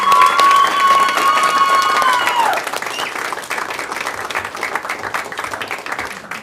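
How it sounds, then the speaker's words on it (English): A school board meeting audience gives a round of applause: steady, fairly close crowd clapping with some cheering, strong at first and then thinning slightly toward the end, with a brief voice early on. "can we give her a round of applause?"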